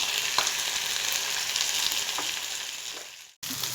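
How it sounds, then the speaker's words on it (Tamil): Raw mango pieces for pickle fry in a pan, giving a steady bright close sizzle with a few faint stirring taps, and the sound briefly drops out near the end before the frying resumes. "இப்போ மாங்காய் கொஞ்சம் குழஞ்சி ஃப்ரை ஆகி வந்துருச்சு."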